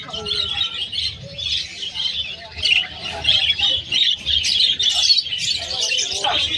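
Hagoromo parakeets, double-crested and pied, at a Malabon pet market chirp and squawk in a busy, continuous chorus of bright tweets close by, with people talking faintly underneath.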